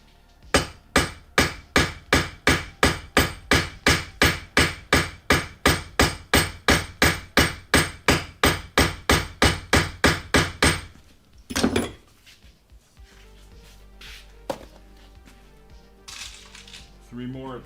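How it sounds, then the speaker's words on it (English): Rivets are hammered into leather armor pieces in a fast, even run of about thirty sharp, loud blows. The hammering then stops and gives way to a few scattered knocks and quiet handling. "Not that anybody needs to see me rivet the 40th rivet"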